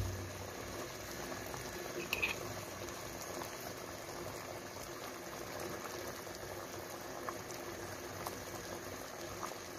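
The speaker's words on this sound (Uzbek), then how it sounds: "Siropimiz mana chiroyli bo'lib qaynayapti past olovda." Sugar syrup for churrak, with honey added, simmers over low heat in a pot, giving a faint, steady bubbling with occasional small pops and no voices.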